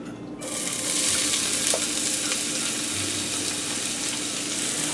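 Onions sweating in hot oil in a pan, a sudden loud sizzle that starts within the first half second and holds as a dense, even frying hiss, close up with no talking.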